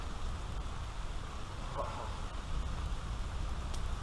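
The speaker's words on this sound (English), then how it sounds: "it's raining great out on the lake" Rain from a storm pours steadily onto a lake, a continuous dense hiss of big drops hitting the water's surface, close and even throughout with no talking.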